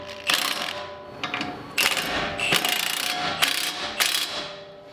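Quick bursts of ratchet clicking as a strut nut is tightened on a 2005-2014 Mustang GT, several short close runs of rapid pawl clicks separated by brief pauses.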